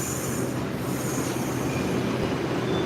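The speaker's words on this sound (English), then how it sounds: "it looks like the train is coming" A train pulls into a station with a loud, steady rumble of rolling rail cars and wheels, a continuous roar that holds at full strength throughout with no voices over it.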